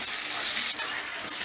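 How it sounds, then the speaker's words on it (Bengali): Vegetables frying in oil with salt and turmeric over a raised gas flame, a steady close hiss of sizzling with stirring, with no speech. "এবারে নুন আর হলুদ দিয়ে গ্যাসের আঁচটা বাড়িয়ে দিয়ে সবজিগুলোকে বেশ লাল লাল করে ভেজে নেব।"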